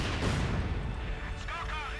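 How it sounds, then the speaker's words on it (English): Mortar fire in the video game Company of Heroes 2 booms and rumbles continuously as dense low explosions, overlaid by a commentator's voice talking throughout. "Mortar fire continuing down here, all over the place."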